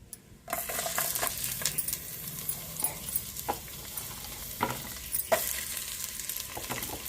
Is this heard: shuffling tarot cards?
no